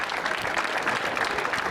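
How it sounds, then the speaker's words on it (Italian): Audience applause at a bread festival in Mussomeli, a steady, dense burst of clapping from a crowd that carries on evenly throughout. "voglio un applauso a mio compare, Antonio Zarconi."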